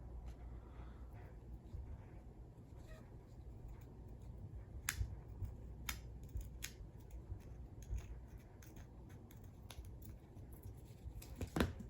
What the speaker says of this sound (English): maybe I'll try my luck with the scissors again